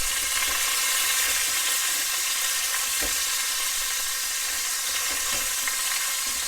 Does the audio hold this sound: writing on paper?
no